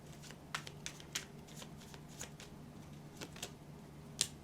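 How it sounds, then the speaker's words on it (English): Tarot cards shuffled by hand in a steady run of soft riffling bursts, close and fairly quiet, with one sharper snap near the end. "I'm going to shuffle and stop, because every time I do that, they go flying."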